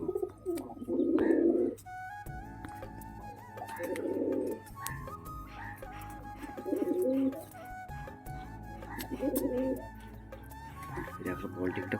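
Pigeons coo in repeated soft, low bursts spaced a couple of seconds apart, close by, with a person talking over and between the calls.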